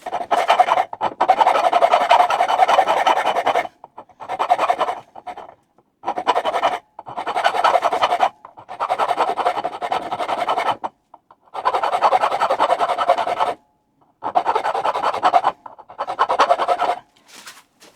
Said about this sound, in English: they're made of nice soft steel, so this filing process is super easy